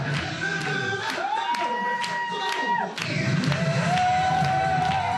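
A crowd in a Gangnam, Seoul cafe cheers and whoops loudly as male performers take the stage, a dense, steady roar with shrill whistle-like cries rising throughout, and a voice speaking over it.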